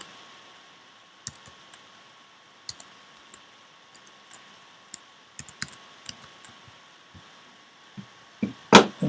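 Keystrokes on a computer keyboard tap out in sparse, irregular clicks at moderate level with no talk, followed by a louder burst of clatter right at the end.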